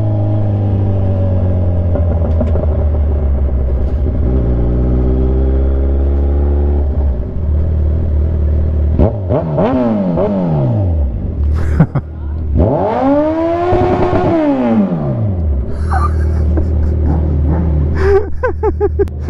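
Kawasaki Z1000 motorcycle fitted with a loud aftermarket exhaust, engine idling with a deep, close rumble, then several rising and falling revs as the throttle is blipped.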